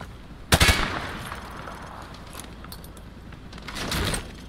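A sharp gunshot burst in the Modern Warfare 2 video game rings out early, fired at a target behind light cover, followed by faint metallic clinks and a second softer flurry of shots near the end.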